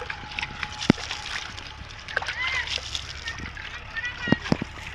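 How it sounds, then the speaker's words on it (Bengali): Water splashes and sloshes while a cricket pitch is being wetted outdoors, with intermittent splatters under voices of people talking nearby, including children. "পিচ ভিজানোর কাজ শুরু হয়ে গেছে"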